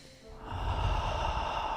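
A single deep breath drawn in during a calm guided session, a soft airy inhale swelling into a sustained, steady rush of breath that stays close and fairly loud to the end.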